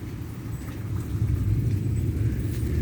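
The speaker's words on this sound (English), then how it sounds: "but the lightning and the thunder is just speeding up" Low, continuous rumble of thunder during a severe thunderstorm in southeastern Pennsylvania, swelling slightly louder and steadier across the stretch with no voices over it.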